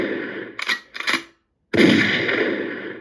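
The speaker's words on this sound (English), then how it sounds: "Shotgun to the dome." Shotgun blast sound effect: a couple of short sharp bursts, then a pause and one loud, booming blast with a long ringing tail, close and clear with no talk.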